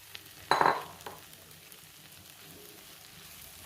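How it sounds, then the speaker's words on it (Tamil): Puffed rice uggani, a Rayalseema dish, is stirred in a pan, producing a few short, close scraping and rustling bursts with faint clinks and quiet pauses between them. "நல்லா கலந்து விட்டுரும்."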